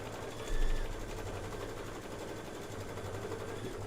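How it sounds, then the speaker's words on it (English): An embroidery sewing machine stitches a megaphone base fill in silver thread, giving a steady, close mechanical hum with a fast repetitive needle rhythm throughout and a slight swell early on. "we're going to stitch the Megaphone base fill, and that is going to be in silver"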